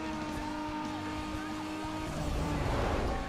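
A race car's engine in Need for Speed Underground 2 roars under load, rising and surging toward the end, with game effects layered over it.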